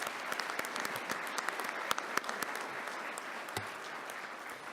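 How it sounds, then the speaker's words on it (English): Audience applause at a Department of Defense travel awards presentation, a dense and steady wash of many hands clapping at moderate volume for the whole stretch, with a few sharper claps standing out. "So please join me in giving him a round of applause."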